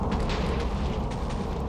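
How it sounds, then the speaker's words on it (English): A red matter explosion from a Minecraft mod roars as a dense, continuous rumbling blast, loud and sustained with no talk. "This is the red matter explosion."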